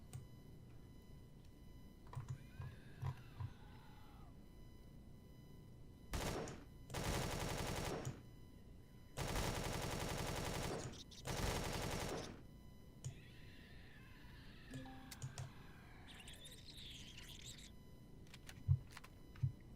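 Bursts of rapid automatic gunfire in a video game, with enemies shooting at a cockpit: three loud sustained volleys in the middle, framed by quieter ambient game sounds.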